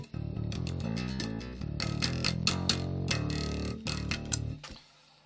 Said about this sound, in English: So this is the sound of the bass normally.